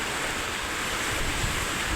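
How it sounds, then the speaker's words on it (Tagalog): Typhoon Uwan battering Masbate Province with strong wind and heavy rain, a continuous loud broadband roar of gusting air and rushing water with no pauses, close to the microphone. "Batyag namo ang kakusgon sa iyang hangin dalasad sa dala niya nga ulan"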